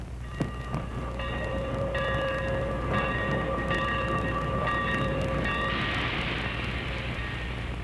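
A night train in a cowboy setting sounds as a steady rumbling roll with repeated sustained horn-like whistle tones riding over the noise, close and loud throughout, with no talking.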